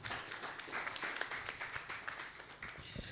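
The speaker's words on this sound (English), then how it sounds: "another round of applause for him." A crowd claps steadily, dense overlapping applause filling the room at moderate loudness, with a few louder individual claps standing out.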